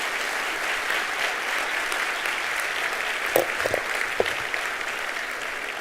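Sustained audience applause for the first lady at a public talk, a dense, even wash of clapping that holds steady throughout, with a few brief louder claps and murmurs breaking through near the end.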